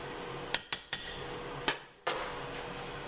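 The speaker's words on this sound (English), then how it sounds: "Stir those in, stir everything in." Jalapenos being stirred into a pot of southern-style pinto beans, with several sharp metallic clanks of a utensil against the pot, close up, between quieter stirring and no talking.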